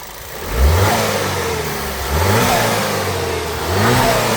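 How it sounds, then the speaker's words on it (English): Volkswagen Passat engine with freshly cleaned carbon and new injectors, started with the intake not yet fully reassembled: three quick revs rise and fall over a steady idle, loud and close, with no voices. "Give it a rev."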